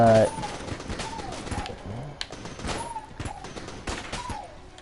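Rapid gunfire from the Vertebrae K-47 in the game Enter the Gungeon, a steady stream of short shots that carries through the whole stretch, with light game effects mixed in.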